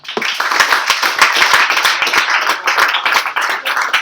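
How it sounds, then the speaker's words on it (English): Audience applause for a person welcomed up to the stage at a tech meetup, a steady patter of many hands clapping at close range for about four seconds, alone with no talk. "Round of applause, please!"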